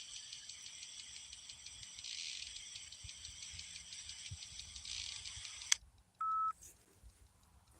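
Handheld phone sounding dialing tones, a steady high electronic warble for several seconds, then a cut to near silence and one short beep, quiet and close.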